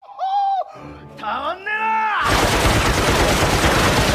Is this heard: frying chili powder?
no